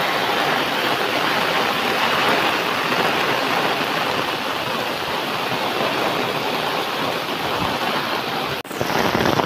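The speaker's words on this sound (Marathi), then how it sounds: "तर जोरात पाऊस आहे आपल्याकडे." Heavy monsoon rain in the Konkan countryside near rice fields, a loud continuous roaring downpour, dense and steady throughout with a brief dip near the end.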